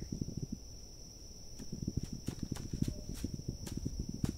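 Horse hooves plodding at a walk in the video game This Land is My Land, a steady run of soft low thuds with a constant high tone running over them and occasional sharper ticks.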